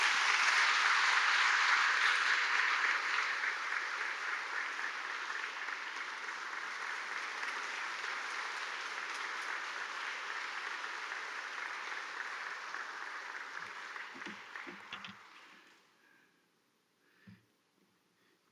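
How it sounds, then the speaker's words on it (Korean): A church congregation greets a bishop with warm applause, a broad wash of clapping that starts strong, slowly thins over about fifteen seconds and fades out, leaving a few scattered claps and small room noises. "정희수 감독님 나오실 때 열렬한 박수로 환영하시겠습니다."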